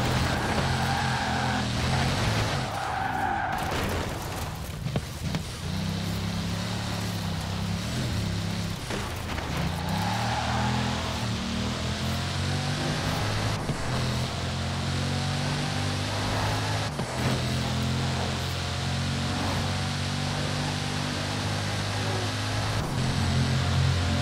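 A low car engine rumble in Forza Horizon 4 drones steadily for a long stretch, its pitch rising and falling as the revs change, with occasional louder surges.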